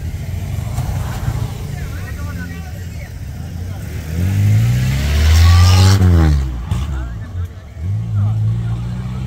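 Old two-stroke Yamaha motorcycles revving in Jaffna, Sri Lanka, the engine note swelling loudly at mid-clip beneath a steady background rumble, with people talking nearby.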